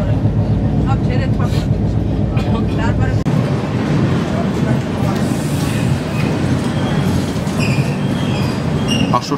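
A Howrah–SMVT superfast express train runs loudly along the track with heavy rumbling, clattering wheels and occasional high squeals, continuous and close throughout, with muffled voices in the background.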